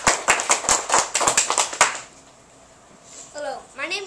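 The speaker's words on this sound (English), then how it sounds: "Will you welcome with a round of applause," A small group claps to welcome a Theodore Roosevelt presenter, quick sharp individual claps for about two seconds, then a quiet pause and a voice begins speaking.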